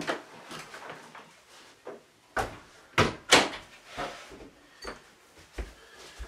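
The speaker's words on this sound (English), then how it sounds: "so I'm going to close this door here for a moment." An indoor door is pushed shut, with a few soft knocks and thuds building to a couple of sharper clunks and a latch click, fairly quiet and close with pauses between sounds.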